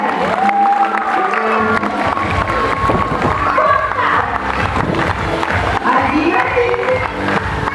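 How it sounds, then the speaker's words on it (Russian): Audience applause and cheering from a crowd at a dolphinarium show in Koktebel, a dense steady wash of clapping throughout with voices and whistles mixed in. "Аплодисментами громче!"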